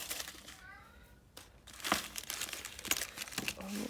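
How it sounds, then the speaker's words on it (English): Tissue paper crinkles and rustles while a box of beads is unwrapped, close, quiet bursts of crumpling and light tearing that come in uneven handfuls. "opening the tissue paper"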